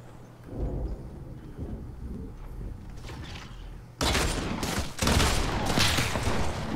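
Shotgun fire in a multiplayer video game, with dense rapid blasts and heavy rumbling bursts that grow louder and continuous in the second half, close and loud, with no talk.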